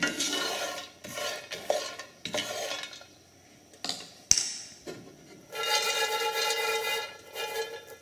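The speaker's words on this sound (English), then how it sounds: "the key here to roasting coffee in a pan is to keep it stirred up." Coffee beans roasting in a pan are stirred with a utensil, producing repeated scraping, rattling bursts with short pauses, then a steadier stretch of stirring and faint sizzling; no talking.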